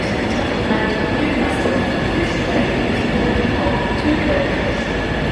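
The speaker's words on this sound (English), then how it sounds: "On a train from Glasgow down to Carlisle" A loud, steady rumble of a train running on rails from Glasgow to Carlisle, passing Tinto Hill in Lanarkshire, with continuous wheel noise and faint rattling throughout.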